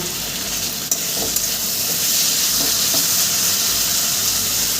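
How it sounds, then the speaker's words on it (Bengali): Potatoes being fried and stirred into the masala for a light katla fish curry: a dense, steady sizzle and hiss from the pan with a few faint spoon taps, close and continuous. "আলু দিয়ে আমি সামান্য দু মিনিট কষিয়ে নেব"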